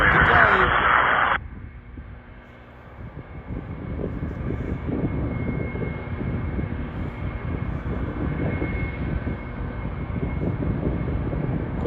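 Boeing 777 airliner engines at Toronto Pearson airport give a steady, broad low roar that runs throughout, with a brief brighter burst of noise at the very start.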